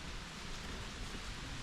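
Steady rain falls outdoors in the Pacific Northwest as an even, hissing wash of noise. It is faint and constant, with no voices or other sounds.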